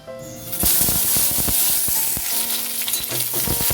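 Whole okra dropped into hot mustard oil in a pan bursts into a loud, close hiss and crackle that stays dense and steady, with scattered sharp pops throughout and no voices.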